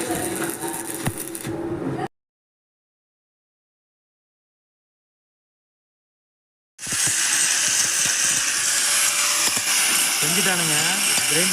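An angle grinder finishes a welded pipe clamp in a welding training shop, a loud, harsh continuous grind with a shifting whine. It cuts to silence for several seconds, then resumes with rising and falling pitch, and voices may be talking.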